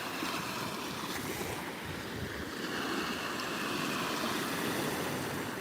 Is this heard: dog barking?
no